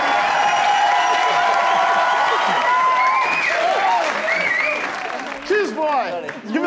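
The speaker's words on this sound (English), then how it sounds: "Give them a round of applause, ladies and gentlemen." An audience in a comedy show's studio claps and cheers loudly and steadily, the applause slowly thinning toward the end while voices and whoops rise over it.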